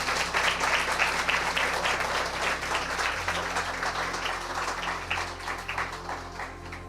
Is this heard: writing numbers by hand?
no